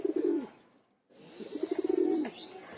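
A female racing pigeon coos nearby, a low throaty burst followed by a brief silence and then a longer rolling coo that ends with a soft flutter.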